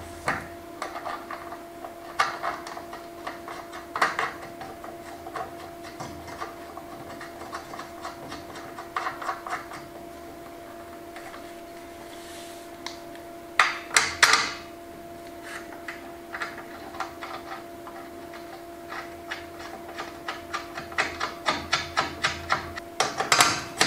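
Parts are bolted together for a large DIY solar power build, with a run of irregular metallic clicks and ratcheting ticks close by, clustering into quick bursts with short pauses between.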